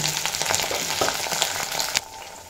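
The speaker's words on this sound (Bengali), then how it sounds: "তেল ভালো মতো গরম হয়ে গেছে। এবার এই তেলেই দিয়ে দেব ভিন্ডি" Okra dropped into hot mustard oil crackles and sizzles loudly with sharp pops, then the frying quickly settles to a softer hiss.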